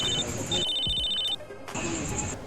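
Telephone ringing in a roleplay video game, a steady electronic tone repeating in two rings with a short gap, heard over faint background noise.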